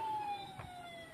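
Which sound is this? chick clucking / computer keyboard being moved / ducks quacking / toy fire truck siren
toy fire truck siren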